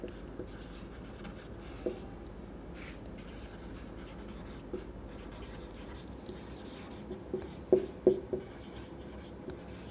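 A pen writing a temperature difference by hand on paper for a class 7 integers exercise, a faint continuous scratching with a few light taps, close and quiet.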